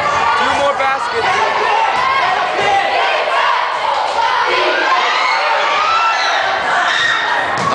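A crowd at a basketball game in Japan, cheering and shouting loudly and continuously, with many overlapping voices filling the space.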